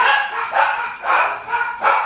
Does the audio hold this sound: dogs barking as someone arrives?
yes